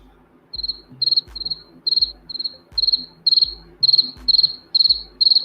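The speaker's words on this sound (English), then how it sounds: "And all I hear now is crickets." Steady, rhythmic cricket chirps repeating about twice a second, clear and close, with a faint low rumble underneath.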